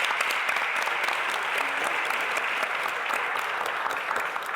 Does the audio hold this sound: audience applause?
yes